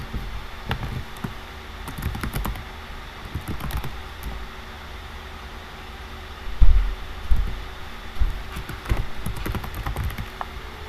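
Fingers tap on a computer keyboard while a website store is set up online, with irregular bursts of close clicks and a few heavier key strikes over a steady low background hum.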